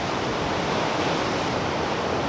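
Sea waves wash onto the rocky coast near a bridge at Leuca in southern Italy, a steady, loud roar of surf with no clear breaks and no talking.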